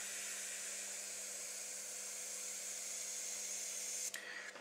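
An airbrush sprays practice lines with a steady, close, faint hiss that runs evenly for several seconds before it shifts briefly near the end, with no talk.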